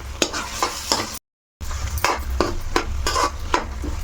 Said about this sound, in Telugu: ఒక 2 మినిట్స్ ఇలా వేయించేసుకుందామే